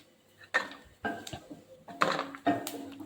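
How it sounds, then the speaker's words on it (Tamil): Coconut paste being stirred in a kadai while cooking a sweet, with a handful of distinct scraping, clattering knocks of a spoon against the pan spaced through a quiet background. "இதே கடாயில் நம்ம தேங்காய் பேஸ்ட் அரைச்சி வச்சுருந்தோம் பார்த்தீங்களா, அதை நல்லா கை விடாமல் கொட்டிட்டு கிளற போகிறோம்"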